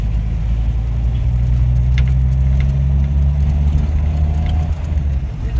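Car engine and road traffic heard from inside a vehicle driving toward Bicol, a steady loud low rumble and hum with faint passing noises, continuous with no talking.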